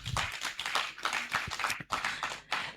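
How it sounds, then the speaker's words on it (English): A round of applause for participants at the opening of a university business challenge event, with close, uneven clapping in bursts and short gaps, fairly quiet overall. "A big round of applause to all of you."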